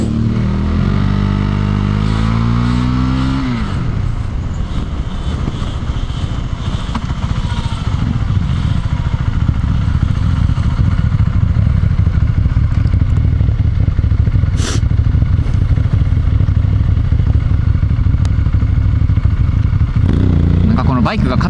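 A motorcycle engine runs steadily and loudly throughout, its low rumble constant, with a brief clatter partway through.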